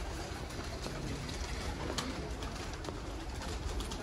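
Golden pigeons of the Mian Nazir bloodline cooing steadily and close by, a soft continuous murmur of overlapping coos with no talk over it.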